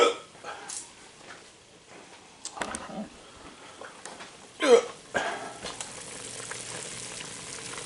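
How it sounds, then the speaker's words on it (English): A few short, abrupt hiccups amid a quiet kitchen background with faint sizzling, one sharper catch standing out midway, while cooking white chicken chili. "Got the hiccups now."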